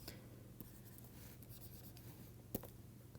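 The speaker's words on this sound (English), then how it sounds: "let me write this up" Chalk or marker writing on a board during a lecture on regularization networks gives faint, scattered scratching strokes over a low room hum, with a sharper tap near the end.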